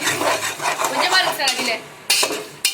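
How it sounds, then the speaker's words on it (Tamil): Ginger, garlic and shallots are stirred and fried in oil, a steady scraping and light sizzle with a utensil rubbing against the pan, and a couple of sharp metallic clanks near the end. "இந்த எண்ணெயில் அப்படியே ஒரு வறு வறுத்துக்கலாம்"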